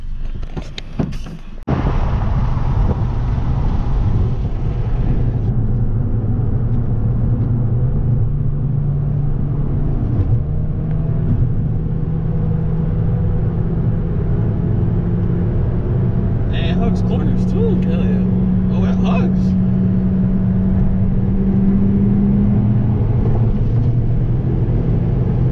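Honda Civic Si engine droning steadily inside the cabin on a test drive, with a rising engine tone and continuous road rumble, loud and close throughout.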